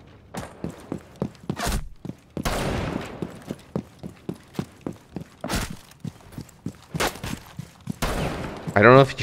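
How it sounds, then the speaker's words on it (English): Gunfire in a video game from a player shooting through a shield, with bursts of sharp shots and rapid automatic fire mixed with repeated thudding steps and impacts; a voice talks over parts of it. "I don't know if he's shooting through the shield there"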